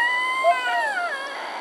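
A young Siberian husky mix puppy lets out a high, wavering whine that rises and falls in pitch, close and alone, with no talk over it.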